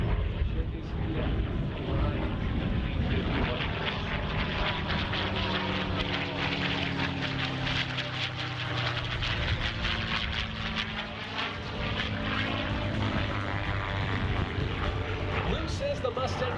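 Propeller warbird, a P-51 Mustang, flying at an airshow: a sustained engine drone with a slowly shifting pitch as the plane passes, loud and continuous throughout.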